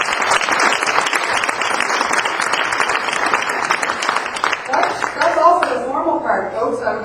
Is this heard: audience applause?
yes